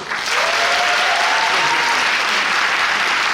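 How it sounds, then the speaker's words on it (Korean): An audience applauds steadily and loudly at the final-performance curtain call of the musical Sejong 1446, a dense continuous wash of clapping with no voices over it. "박수 한번 주십시오"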